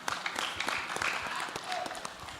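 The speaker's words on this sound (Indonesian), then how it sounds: "Kita beri aplaus untuk semua pasangan calon." An audience at a Manado mayoral candidates' public debate applauds, a loose spatter of clapping from a moderately distant crowd, fairly quiet and lasting the whole stretch.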